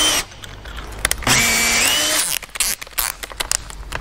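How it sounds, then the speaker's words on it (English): Power drill whirring steadily for about a second, spinning an adapter fitted into a motorised jockey wheel for a van, with clicks and handling clatter before and after the run. "So all you do is bang that in the drill."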